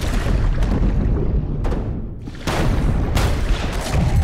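Mines detonate in the video game DEPTH, giving deep, rumbling underwater booms over a constant muffled roar, with a brief dip before a fresh heavy blast swells back up.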